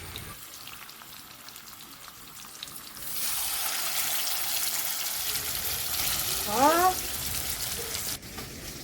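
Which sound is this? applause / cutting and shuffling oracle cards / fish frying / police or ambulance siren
fish frying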